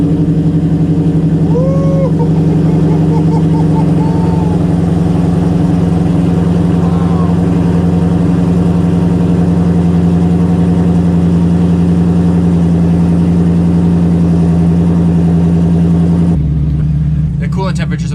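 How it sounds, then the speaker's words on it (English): A Cobra Jet-cammed Ford Mustang Boss 302 with free-flowing exhaust idles after a cold start, heard from inside the car as a loud, deep, steady rumble that drops in pitch and shifts briefly near the end. "So this is the first cold start inside the car with free flowing exhaust."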